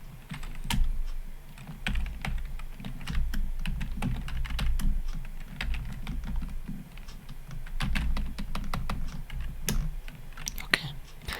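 Steady computer keyboard typing in a close, intimate setting, dense runs of crisp key clicks with brief pauses, alone with no voice.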